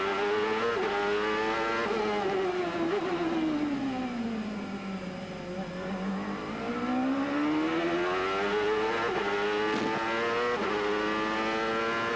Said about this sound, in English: listen to the work that that Ford Cosworth engine is doing